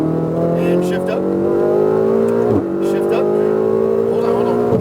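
A race car accelerates hard after an upshift at a Las Vegas track, its engine note climbing steadily, briefly dropping at the gear change and rising again, loud and close with a person talking over it.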